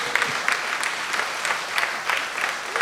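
A Rotary convention dinner audience claps steadily and loudly, dense overlapping hand claps filling the room for a few seconds with no talking over them.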